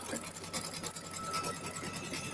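A sewing machine stitches binding onto a quilted winter landscape organizer, running as a fast, steady, close mechanical whir without pause.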